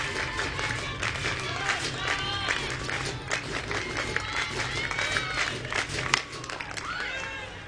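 Softball crowd at an NCAA college game cheering too early on a ball that goes foul, a steady roar of shouts and cheers with some clapping, loud and sustained, with a commentator talking over it.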